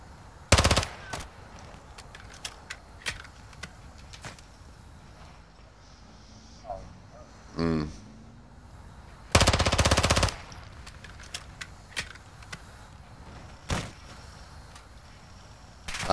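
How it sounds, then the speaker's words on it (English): Gunfire in the Call of Duty DMZ game sounds as loud, sharp isolated shots and a couple of longer automatic bursts, separated by quieter gaps with soft background noise and brief faint talk. "That gun is so loud"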